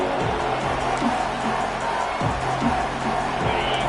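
A home crowd roars steadily in a college football video game, Georgia versus Penn State, swelling as the defense tries to get off the field on third down, a dense continuous wall of noise.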